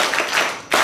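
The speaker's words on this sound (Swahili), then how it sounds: "Wapigeni kama makofi" A short burst of hand clapping at a church confirmation ceremony for young people, heard as a brief close patter of claps that swells sharply near the end.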